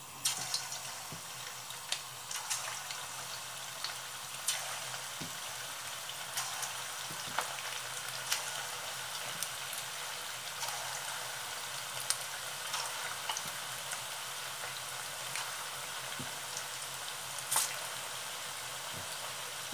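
Potato meatballs in the Turkish Cypriot style fry in a pan, giving a steady close crackling sizzle with scattered sharp pops and spits throughout, no voices.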